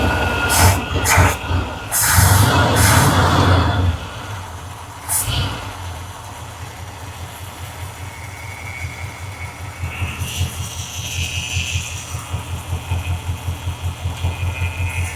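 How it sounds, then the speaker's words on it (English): A 1957 delivery truck's engine idles steadily with a rhythmic low thrum, while a power steering pump adds a light racket; a few bursts of clatter come early before the idle settles, close and alone. "Power steering pump's making a little racket."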